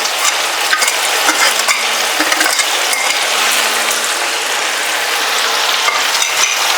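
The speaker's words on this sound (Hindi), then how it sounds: "हम टमाटर को भूनते हैं" Tomatoes with salt fry in a pan for a cucumber sabzi, making a loud, steady, close sizzle with occasional stirring scrapes and no talking.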